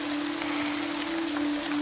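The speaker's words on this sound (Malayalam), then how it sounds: "ധനുമാസത്തിൽ ഇങ്ങനെ ഒരു മഴ പതിവില്ലാത്തതാ" Unseasonal daytime rain falls in a Kerala home setting, heard as a steady, dense hiss with no breaks, accompanied throughout by a faint constant low hum.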